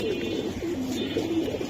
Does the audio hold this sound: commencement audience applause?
no